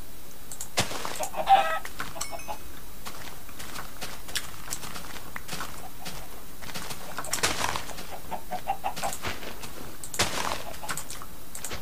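Scattered clucks from a video game chicken over a steady game ambience, with sporadic soft footstep-like clip-clops in between, fairly faint and with no talking.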